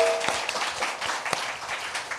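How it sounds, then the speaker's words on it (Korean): Studio audience claps warmly to open a Korean current-affairs talk show, a dense, even patter of many hands with a few sharper claps standing out, brief and close. "여러분의 힘찬 박수와 함께 시작하겠습니다"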